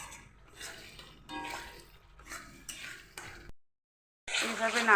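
Meat curry is stirred in a pan with a series of short scraping and clinking strokes, fairly soft, broken by a brief silence before a louder burst of stirring.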